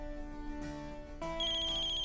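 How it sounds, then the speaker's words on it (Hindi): A phone ringtone plays close by, a short bright electronic melody of a few rising tones, clear with no voices. "चांदनी का फोन आ रहा है।"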